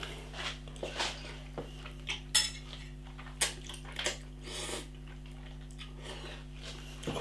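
Samyang Mala Buldak fire noodles are eaten with cutlery: scattered faint clinks and scrapes against a bowl, soft slurping and chewing, and a steady low hum in the background.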